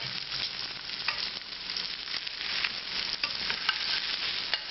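Ribeye steak frying in butter in a pan gives a steady, close sizzle with crackling pops and spatters throughout, and no talking.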